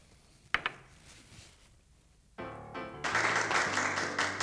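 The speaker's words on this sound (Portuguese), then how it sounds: "Aplaudem todos que vêm aqui, né?" Audience applause breaks out at the close of an outdoor backyard interview show, starting with a few claps and swelling into steady, dense clapping from a nearby crowd after a quiet pause.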